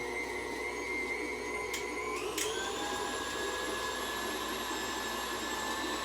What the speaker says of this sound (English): beat my cream cheese and my butter until it's creamy